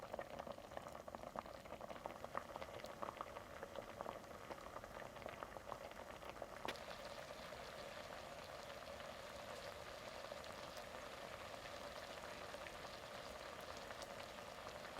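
A pot of squid and taro potato stew simmers quietly, a steady, soft bubbling and popping that continues evenly without pause.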